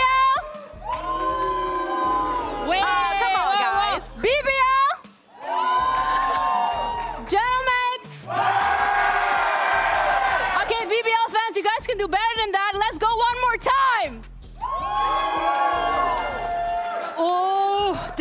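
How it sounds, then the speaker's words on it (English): A live esports crowd at a VCT EMEA Kickoff match cheers and whoops loudly in long bursts on cue. Big roaring swells fill the hall, broken by short pauses and a loud shout. "when I shout your team's name, if you can cheer just to let me know how many people are here"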